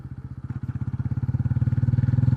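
A 160cc motorcycle in fourth gear drones along with a steady, loud engine pulse, its rhythmic throb quickening slightly as it picks up speed, heard close with no talk.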